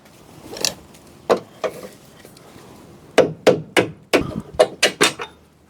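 Hammer striking a screwdriver to tap out a control arm bolt on an Opel Corsa Utility 1.4i: sharp metallic taps, a few spaced blows followed by a quicker run of about eight strikes, close and loud.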